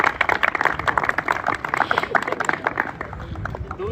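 Brisk clapping from an audience at a cricket league final ceremony in Logroño, a dense, even patter of many hands that carries on throughout.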